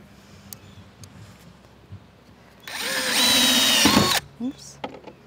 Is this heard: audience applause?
no